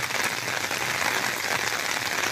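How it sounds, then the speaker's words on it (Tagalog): Heavy rain lashes down during typhoon Bebinca on Burias Island, a dense, steady, broadband hiss with no pauses, like a continuous roar of drops, with no talk over it. "Grabe lakas ng ulan dito."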